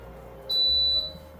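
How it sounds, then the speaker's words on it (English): Gourmia French Door XL air fryer oven timer sounding a single sustained electronic beep, clear and close, over a low kitchen hum. "So our timer's off."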